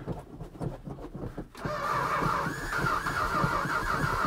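A 1969 Plymouth Barracuda's starter motor cranks the engine in a rhythmic, whirring churn. A sharp squealing whine joins partway through, and the cranking continues steadily without the engine catching, close and fairly loud.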